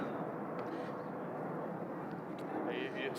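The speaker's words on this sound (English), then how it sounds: "Sorry, you're competing with the plane." An airplane passes overhead during an outdoor gathering, a steady broad roar that holds at even loudness throughout and drowns out the surroundings.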